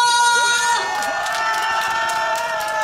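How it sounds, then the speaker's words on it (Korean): A crowd at an outdoor music show in a market square shouts and cheers loudly for about three seconds, a sustained roar of many voices over held musical tones. "함성!"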